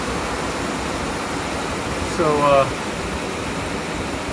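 Rain-swollen river rushing roughly past a ryokan in Takayama, Gifu, heard as a steady, broadband roar throughout with a brief voice over it midway.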